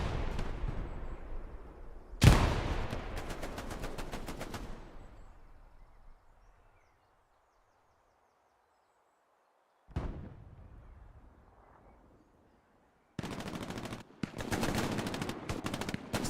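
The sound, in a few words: grenade explosions and gunfire, from video game Hell Let Loose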